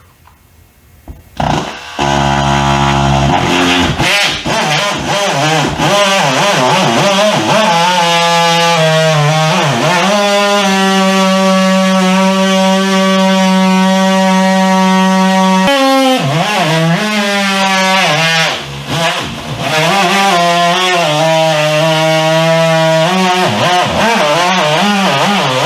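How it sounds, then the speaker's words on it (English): An oscillating multi-tool cuts through drywall during a wall repair, its loud buzzing whine running nearly continuously, shifting in pitch as the blade bites, with brief pauses and restarts. "Now I'm just going to use my multi-tool and cut right along these lines."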